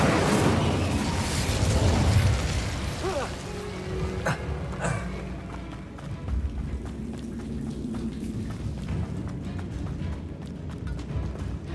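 The Incendio fire spell cast in Hogwarts Legacy, a loud whooshing burst of flame at the start that trails into crackling, rumbling fire and scattered pops. A voice speaks over parts of it.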